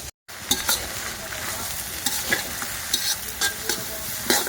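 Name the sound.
meat curry frying and stirring on stove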